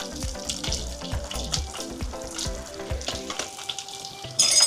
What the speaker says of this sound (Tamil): பூண்டு லைட்டாக வந்து வதங்கட்டும்